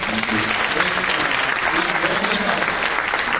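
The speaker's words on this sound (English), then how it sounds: "Let's have a huge round of applause for Abhinav." Audience applause at a leadership summit panel discussion, continuous and full, a steady roar of many hands clapping with faint voices mixed in.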